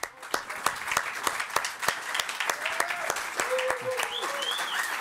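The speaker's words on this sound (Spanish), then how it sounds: "Un aplauso para Heisel" At a Campus Party presentation, a crowd applauds a named attendee with moderately dense clapping, a few sharp claps standing out above it, while scattered voices and faint whoops are heard in the background.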